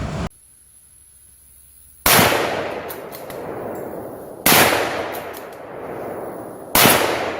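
Three loud rifle shots ring out, each a sharp crack followed by a long echoing decay across open ground, evenly spaced about two and a half seconds apart, close and alone.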